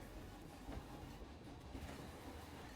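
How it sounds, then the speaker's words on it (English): A simple train ride running in Planet Coaster gives a faint, continuous rail rumble with soft rhythmic clatter. No voices are heard. "So basically, it's just a simple train ride."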